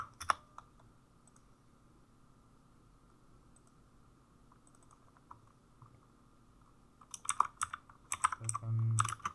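Keys clack on a computer keyboard while a rocket is being modelled in Blender, starting as sparse light taps and breaking into a louder, faster burst of clicks near the end, with no one speaking.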